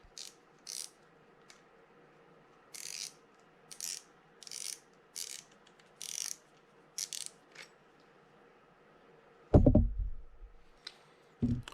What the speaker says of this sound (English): Just turning counterclockwise to remove that drag knob, and then we can pull that spool off.